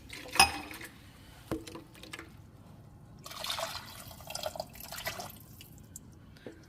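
Water poured into a pot of cooked tomato and carrot for rasam gives faint trickling and splashing with a few light clinks, quiet and close.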